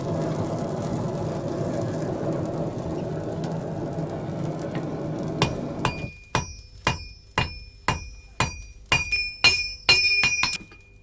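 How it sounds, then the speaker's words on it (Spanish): Blacksmith forging two heated metal pieces together on an anvil with a hammer in a traditional forge: about a dozen sharp, ringing metallic strikes in an uneven rhythm, close and loud, following several seconds of low rumbling background noise. "unirlas a golpe de martillo sobre el yunque"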